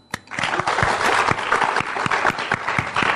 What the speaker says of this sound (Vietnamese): Chúng ta hãy một lần nữa vỗ tay để chào đón bà Sáu Năm